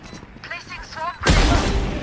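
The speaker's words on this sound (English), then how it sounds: "Bomb grenade." A grenade explodes in the video game Valorant: a voice talks briefly, then a loud, broad blast erupts and keeps roaring to the end.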